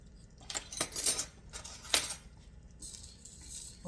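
Metal measuring spoons clink and jingle in several quick bursts while being handled in a kitchen, close and fairly quiet, with a softer rattle near the end.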